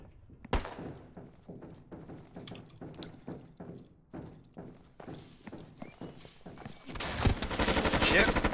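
Rapid bursts of video game gunfire crack repeatedly over several seconds, mixed with clattering hoof-like thuds and a horse's whinny, building to a dense, loud roar of shots near the end.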